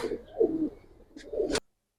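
Pigeons of fancy breeds such as army, lalpatti, silver, khaki and pangkhi (fantail) coo close by in two soft, throaty bursts separated by a brief lull.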